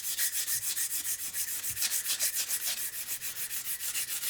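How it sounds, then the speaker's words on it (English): 180 grit sandpaper rubs back and forth over a steel ramrod pipe held in a vise for a Traditions St. Louis Hawken rifle, making quick, rhythmic, close scraping strokes, roughly five per second, with no pause. "I can just run this 180 grit all over about half of that ramrod pipe"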